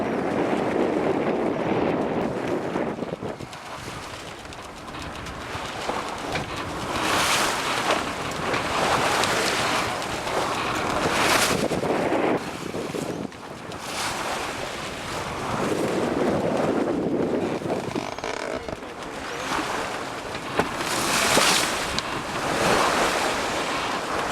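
A sailboat plunges into rough waves off the Cape Wrath headland, with surf crashing in repeated surges and strong wind buffeting the microphone throughout.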